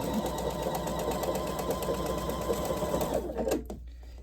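A sewing machine stitches a seam on a table runner in a fast, even chatter, close and fairly quiet, then stops abruptly near the end.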